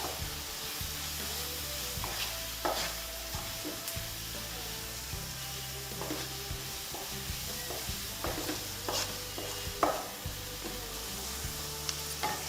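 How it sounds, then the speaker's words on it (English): A spoon stirs cumin and coriander into a Bengali fish curry with curd in a pan. Soft, steady sizzling runs under repeated scraping strokes and a few sharper clinks against the pan. "Cumin and coriander both have been added. Mix it in nice."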